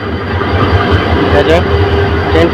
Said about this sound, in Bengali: এখন লোকোমোটিভটিকে ইঞ্জিনের সাথে সংযুক্ত হবে